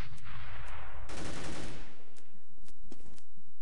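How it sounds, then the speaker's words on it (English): Rapid gunfire in a Counter-Strike: Global Offensive tournament match, a dense burst of shots that then thins into a few sharp, separate cracks spaced apart. "Shots being exchanged here."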